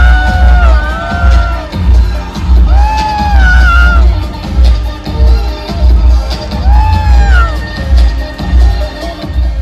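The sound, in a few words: comedy show audience cheering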